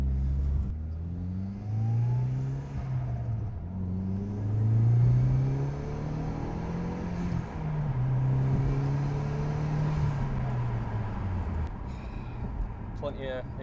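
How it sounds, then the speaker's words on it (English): A 260 bhp 1.8T petrol Audi TT makes steady engine and induction noise while driving, rising and falling with throttle under near-constant cabin conversation. "Plenty of induction noises."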